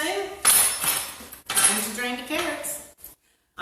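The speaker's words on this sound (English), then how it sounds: "I'm going to drain the carrots" Cooked carrots being drained at a kitchen sink, with pots and utensils clanking and clinking against metal in two bursts, close and fairly loud, followed by a moment of silence.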